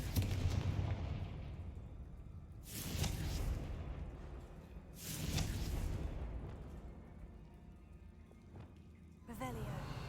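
Confringo blasting spells go off in Hogwarts Legacy, with several booming explosions spaced a few seconds apart, each a broad roaring burst that fades, the last one cut short, over a rumbling game background.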